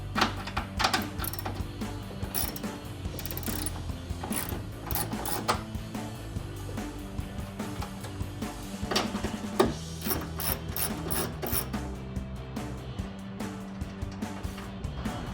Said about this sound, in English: Using our ratchet with deep 10mm socket, we'll be removing these nuts.